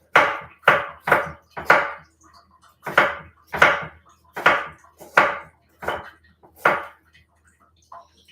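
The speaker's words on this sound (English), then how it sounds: "We got our onions chopped with successfully not having teary eyes." Knife chopping onions on a cutting board, a series of about a dozen crisp, close knocks in uneven bursts, with short pauses between groups and no talking.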